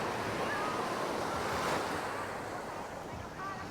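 Surf washes steadily onto the white-sand beach at Koh Samet, Thailand, a continuous broad rush of breaking waves with wind buffeting the microphone throughout.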